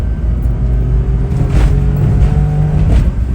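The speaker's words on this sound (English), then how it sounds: "Quick little acceleration test. Foot all the way down." Honda Z small car accelerating hard with the throttle floored, a loud continuous engine rumble heard from inside the cabin, rising steadily with no talking.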